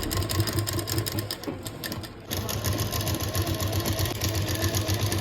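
A sewing machine stitches around a shirt collar in a boutique, a loud, close, rapid mechanical whir with steady rhythmic clatter that pauses briefly before running on continuously.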